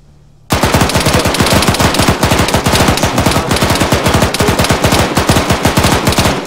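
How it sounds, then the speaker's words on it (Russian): A machine gun in Arma 3 opens up after a short quiet moment and fires in loud, rapid, sustained bursts for several seconds, each round cracking close and distinct. "Да. Пулемет взял."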